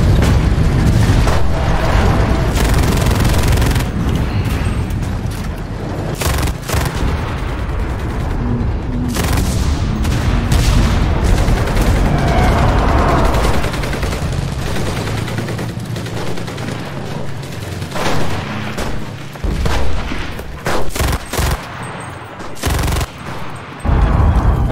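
Artillery and gunfire barrage in the video game Enlisted: loud, dense machine-gun bursts, rifle shots and heavy booming blasts pounding almost continuously, with brief gaps before the shelling resumes.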